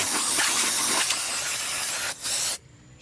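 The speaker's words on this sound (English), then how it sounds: "Now this is what I use here, carburetor cleaner." A close, loud aerosol can of carburetor cleaner hisses continuously for about two seconds on a generator, pauses for a moment, bursts again briefly, then cuts off.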